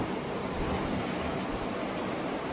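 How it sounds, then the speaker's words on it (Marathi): Arabian Sea surf breaks along Harihareshwar beach in a continuous, fairly soft roar of waves, with wind rumbling on the microphone and no speech. "तर मित्रांनो बघताय तुम्ही हा अरबी समुद्र आणि हा हरिहरेश्वरचा"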